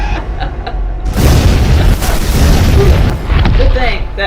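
A grenade goes off in a video game with a loud, sustained boom that rolls on for a few seconds after a quieter opening.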